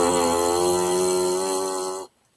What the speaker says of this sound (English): So our mouthpiece makes a sound from amplifying what our lips are doing